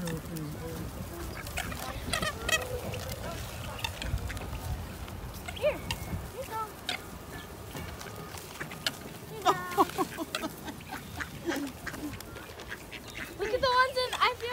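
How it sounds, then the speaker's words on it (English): Geese honking among a crowd of birds during a feeding frenzy, with scattered honks and quacks, a louder cluster near the end, and people talking throughout. "Here comes a goose. Another goose. Yep, goose."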